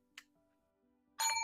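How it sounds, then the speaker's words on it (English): Small metal bell rung at a desk while saving money challenges are tallied, a faint brief ping early on followed by a bright, loud ringing ding with lingering tones at the end. "we got to ring the bell."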